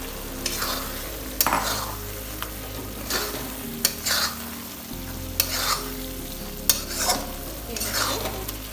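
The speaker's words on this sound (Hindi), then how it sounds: "अब इन अंडों के साथ मैं मसाले को फ्राई करूंगी" Boiled eggs being fried with masala in a pan for egg loncha: a continuous close sizzle with periodic scraping strokes of the spoon and a few sharp clicks against the pan, with no talking.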